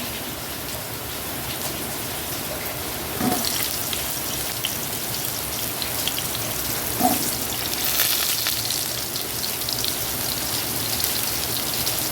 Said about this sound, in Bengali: আবার নেমেছে বৃষ্টি এইরকমইভাবে খুব জোরে বৃষ্টি হচ্ছে